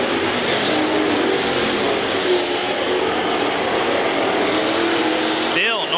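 Street stock race cars circle a Texas dirt oval during a feature race, a dense continuous roar of several engines at mid distance, while an announcer talks over the noise throughout.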